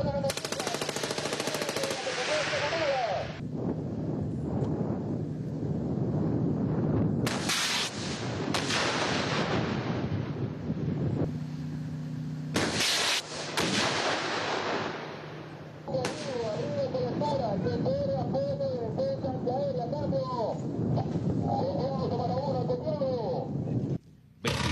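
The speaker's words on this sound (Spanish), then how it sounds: "Escuadra de ametralladora, en fuego sobre la posición enemiga." Machine-gun squad fires in bursts during a military exercise at a fort, sharp rapid volleys separated by brief pauses. The shots ring loud and near, with someone narrating in Spanish in between and animal bleats faintly audible.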